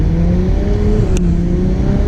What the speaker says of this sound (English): you got to hear this car